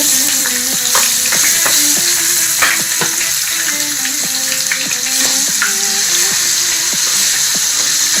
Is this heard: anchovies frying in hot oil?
yes